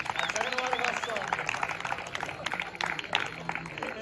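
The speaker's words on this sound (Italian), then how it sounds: "grande applauso del Deportivo La Carogna" Crowd applause at a football cup final award ceremony, clapping and cheers mixed with a loud announcer talking over it and a whistle-like tone.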